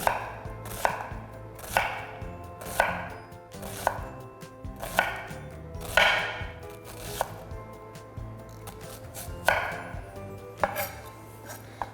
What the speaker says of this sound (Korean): 칼집을 넣어주시고요. 다져주시면 되겠습니다.